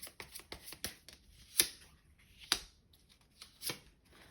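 Tarot cards are shuffled and drawn for a reading, a quiet string of soft papery flicks and slaps with a few sharper snaps, close and without speech.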